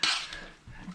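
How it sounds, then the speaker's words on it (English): A teaspoon clinks against a pot while stirring soup, one bright metallic scrape followed by a softer knock, close and brief. "Stir my little soup,"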